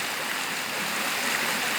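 A small creek rushing among huge boulders below the Süzek waterfall at Gökçebey, a steady, close, broadband wash of flowing water with no pauses.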